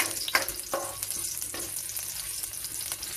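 Three ginger slices sizzle and fry in a pan for squid adobo, a steady close crackle of hot oil with occasional stirring scrapes.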